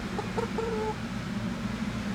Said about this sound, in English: Curious little chickens.